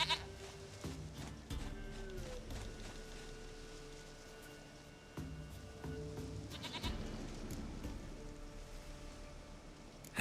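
A goat bleats repeatedly in The Witcher 3: Wild Hunt, several distinct nearby bleats spaced across the scene over steady rain and soft ambient game sound.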